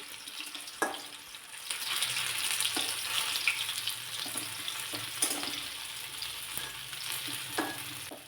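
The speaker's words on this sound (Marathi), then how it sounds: "एकदम खरपूस असे वडे चांगले परतून होतात" Vadas shallow-frying in oil over a low flame make a soft, continuous sizzle, with a few sharp clinks and scrapes of a spatula turning them.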